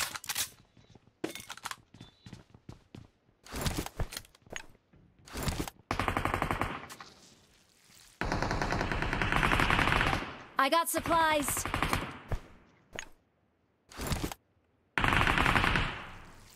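Shotgun blasts in BGMI gameplay on an iPad mini 5, firing in loud bursts with rapid reports, separated by quieter gaps where players talk.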